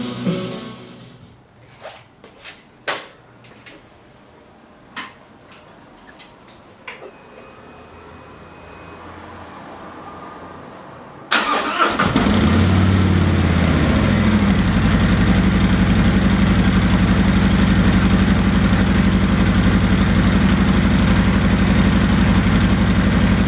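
A 2018 Harley-Davidson Road Glide on its factory exhaust, first a few scattered clicks and knocks, then the engine fires and settles into a loud, steady low rumble with a deep idle throb.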